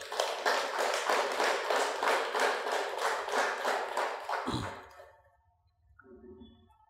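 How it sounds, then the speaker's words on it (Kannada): An audience at a Shivaratri talk claps in a loud, rhythmic unison beat for about four and a half seconds, then stops abruptly, leaving near silence with a few faint sounds. "ಶಿವನಿಗೆ ಜೋರು ಚಪ್ಪಾಳೆಗಳು"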